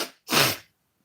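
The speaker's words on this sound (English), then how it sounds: "just sneezes" A single sharp sneeze bursts out close by after a short intake of breath, then silence follows.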